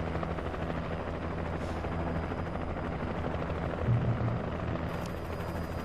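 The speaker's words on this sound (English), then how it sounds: "Got me a fucking helicopter backing me up now." Helicopter flying overhead in the video game Alan Wake Remastered: a steady, droning rotor hum with a continuous pulsing beat, moderately loud and sustained with no speech.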